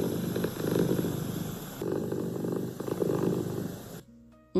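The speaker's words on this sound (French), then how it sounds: "il ronronne. Il fait un bruit comme un petit moteur." A cat purrs in slow, rhythmic rumbling cycles, close and soft, before stopping abruptly with a brief clatter.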